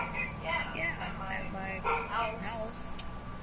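A dog barks in a short run of quick, fairly close yips and woofs, mixed with whimpering and voices talking over it.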